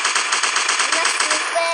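Rapid automatic AK rifle fire in a survival video game, a steady loud burst of closely spaced shots running continuously with no gaps.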